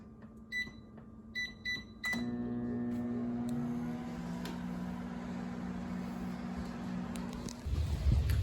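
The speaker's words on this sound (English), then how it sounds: "My coffee is getting cold, so I'm going to need to microwave it." A microwave oven runs while heating a cup of coffee, opening with a few button beeps, then a steady loud hum with a tonal drone that holds for several seconds before the door clunks and the run ends.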